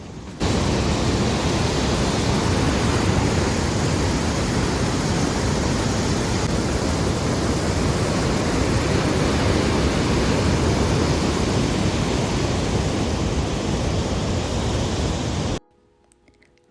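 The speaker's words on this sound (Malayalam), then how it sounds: "അതിനാൽ വേൾഡിലെ തന്നെ one of the highest flowing waterfalls കാറ്റഗറിയിലുണ്ട് ഈ ഹുക്ക ഫോൾസ്" Huka Falls on the high-volume river at Taupo, New Zealand, roars as a continuous, loud, broadband rush of water for about fifteen seconds, then cuts off abruptly; no voices.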